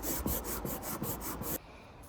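Rhythmic strokes of sandpaper on a Ruger 10/22 wooden rifle stock, about eight quick even rubs close up, then stopping.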